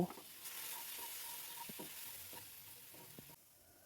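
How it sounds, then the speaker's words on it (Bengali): Ground turmeric, cumin, coriander and red chilli masala frying with a splash of water for a small-shrimp dish, a soft steady sizzle with occasional light stirring taps, fairly faint. "অল্প জল দিয়ে মশলাটা ভালো করে কষিয়ে নেব"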